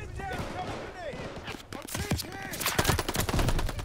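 Rapid gunfire rattles in bursts during a multiplayer match of the Call of Duty Vanguard beta on PS5, growing louder and denser toward the end while a voice talks over it.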